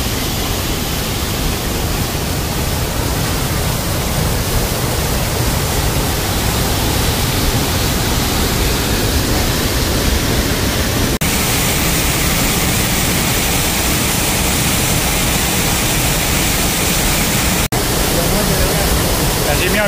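A powerful waterfall roars steadily and loudly throughout, a dense unbroken wash of falling water with no pauses.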